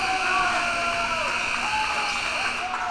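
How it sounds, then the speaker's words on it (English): A basketball game buzzer sounds as a sustained electronic tone ending the first quarter of a high school game between Holy Ghost Prep and Penn Wood, heard over crowd noise in a gym. "Amari Womack, the buzzer beater to end the first quarter"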